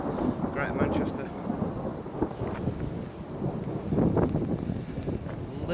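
Thunder rolls loudly and continuously through a wet thunderstorm on a walk in Greater Manchester, with heavy rain and gusts buffeting the microphone, swelling louder around the middle and no clear speech.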